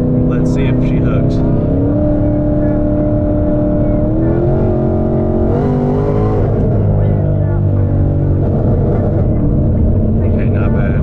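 Roush Mustang roaring at full throttle as it launches and accelerates down a drag strip, loud continuous engine drone rising in pitch with gear changes, heard close from inside the car.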